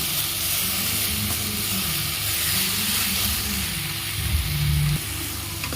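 Chopped tomatoes sizzle steadily in hot oil in a pan while being cooked down for coriander chutney, a close, continuous hissing fry with a brief louder stirring swell near the end.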